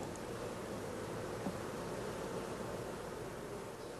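Bees hum in a queen-rearing nucleus box whose one edge is propped up on a wooden lath, a steady, soft, even drone that continues without pause.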